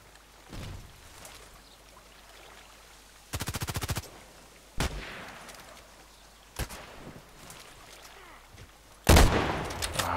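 Gunfire from a weapon in the Contract Wars shooter game: a rapid burst of automatic shots, then several sharp single reports spaced apart, and a final loud burst near the end, all fairly close over a quiet background.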